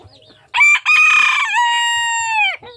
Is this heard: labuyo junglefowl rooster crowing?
yes